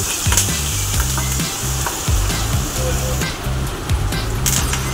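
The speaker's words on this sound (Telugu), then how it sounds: "ఇప్పుడు మళ్ళీ కొంచెం ఆయిల్లో జీడిపప్పు, పచ్చిమిర్చి వేయించుకోవాలి" Cashews and green chillies fry in hot oil for a crispy baby corn dish, giving a steady, close sizzle with a low, rhythmic pulsing tone running underneath throughout.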